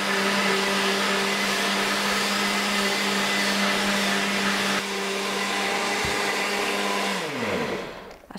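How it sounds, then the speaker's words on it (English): A kitchen blender whirs steadily for several seconds while blending a lemony cashew sauce, a loud constant motor drone that winds down and stops at the end. "And then you want to blend this up nicely."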